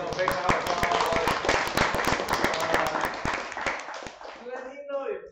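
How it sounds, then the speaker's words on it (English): An audience bursts into applause at a Ruby Tuesday meetup, dense clapping with sharp individual claps for about four seconds before it fades and a voice begins speaking. "give yourself a big round of applause"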